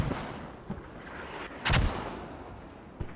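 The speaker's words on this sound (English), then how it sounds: "mortars now coming in" Incoming mortar fire in a tactical shooter game: one heavy broadband blast near the middle, with a couple of fainter thuds before and after against steady background noise.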